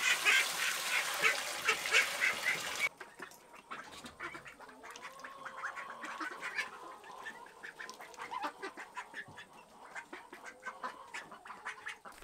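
A farm poultry flock of hens and geese calls back and forth, with a loud noisy burst at the start giving way to scattered honks, clucks and chatter at moderate distance, no voices.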